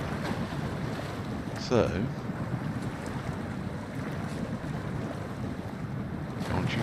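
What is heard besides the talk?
truck driving through water in the video game Snowrunner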